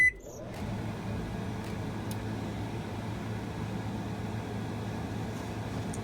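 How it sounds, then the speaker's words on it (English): A steady whooshing hum of a kitchen fan runs continuously at low volume, with no other distinct sounds. "I'm going to turn on my fan so it doesn't get too smoky in here."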